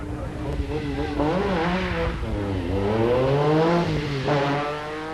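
Metro 6R4 rally car on a 1986 RAC Rally stage, engine note rising and falling as it accelerates and shifts past at moderate distance, a sustained revving drone under a commentator's talk.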